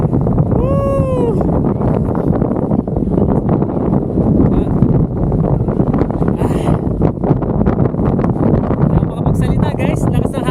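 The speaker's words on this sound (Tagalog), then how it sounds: "woohoo! Lakas na hangin!" Loud, blustery wind on Mt. Olis in Atok, Benguet, roars and buffets the microphone continuously, with a brief excited whoop near the start and voices under the gusts.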